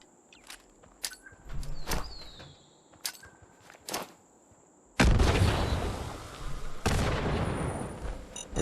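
Fallout 76 gunfire: four sharp shots crack at about one-second intervals amid faint outdoor ambience, then two louder, sustained blasts roar out close by.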